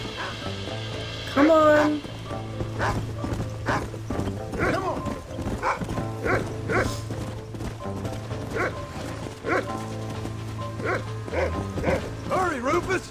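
A dog in the Red Dead Redemption video game barks repeatedly over a steady low in-game hum, with one loud, close bark early on and quicker yaps after it, while someone talks over the game sounds.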